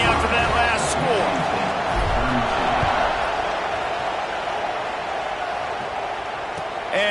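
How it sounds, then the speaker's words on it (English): A stadium crowd in the college football game College Football 26 keeps up a steady, loud buzzing roar after a score, with a commentator talking over it. "this crowd is buzzing after that last score"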